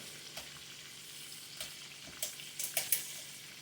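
Whole whiting fish frying in oil on an electric stove, heard as a quiet sizzle with sparse, scattered pops and crackles that grow a little more frequent toward the end, with no talking.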